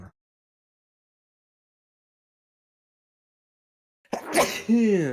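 A single loud, close sneeze after a few seconds of silence.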